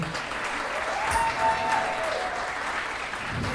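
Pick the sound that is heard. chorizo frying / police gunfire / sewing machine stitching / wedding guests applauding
wedding guests applauding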